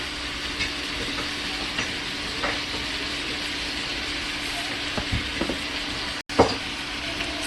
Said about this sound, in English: Added my ground meat. I'm going to just break it up.